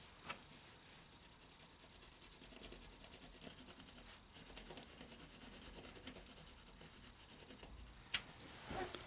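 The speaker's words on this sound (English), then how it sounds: "I'm going to use the side of my pencil to use that texture to actually create a little bit of a texture on my drawing" Side of a pencil rubbed across paper laid over a textured wall, making a faint, steady, close scratchy rubbing that continues throughout with no one talking.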